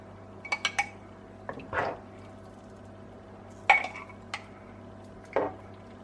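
Fried peppers in tomato sauce spooned into a glass preserving jar for winter storage, with soft clinks, a few scraping spoon strokes and small wet plops spaced out against a quiet kitchen hum.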